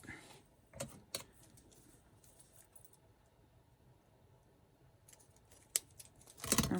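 Scissors cut a recycled cardboard box for a desk organizer in short, crisp snips: a pair near the start, then a long quiet stretch and a louder burst of cutting at the end.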